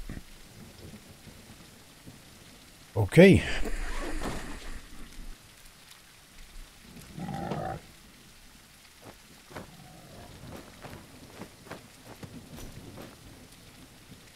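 In the survival game No One Survived, steady rain patters throughout. A loud, sharp thunderclap comes early and a lower rumble follows a few seconds later, with one brief spoken word.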